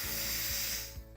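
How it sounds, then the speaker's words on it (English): An Instant Pot pressure cooker venting steam on quick release, a loud steady hiss with a faint mechanical whine that tapers off at the end, no talking. "We're just gonna do quick release"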